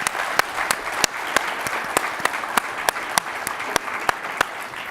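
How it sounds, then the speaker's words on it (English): Audience applause at a RISC-V conference keynote for the ratification awards: steady, dense clapping from a large crowd across the whole stretch, with a few sharper individual claps standing out and no talking. "a round of applause on ratification awards."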